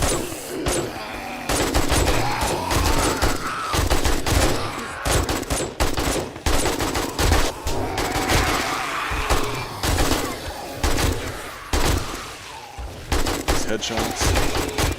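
Rapid bursts of gunfire from a survival video game on a public server, loud and sustained, repeated volleys packed densely across the whole stretch with a speaking voice woven through.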